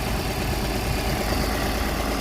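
Steady, close idle of a 2014 1.2 TDI three-cylinder diesel car engine. A constant broadband rumble continues without a break and no voices are heard.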